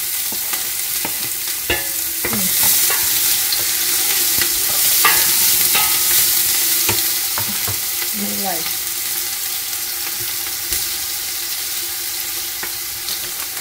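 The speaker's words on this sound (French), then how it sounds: "Tournez les oignons, ça se colle." Onions frying in a pan are stirred with a utensil, giving a steady loud sizzle broken by repeated close scraping and knocking strokes against the pan, with no voices.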